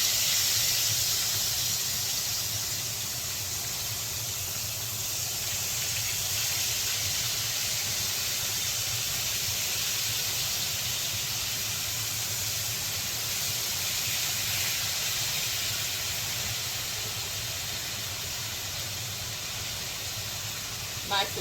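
Pork chops frying in a pan just after being flipped, a continuous close hiss and sizzle that stays steady throughout with a faint low hum underneath.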